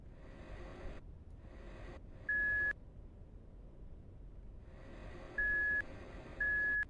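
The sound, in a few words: vehicle reversing beeps in a story video game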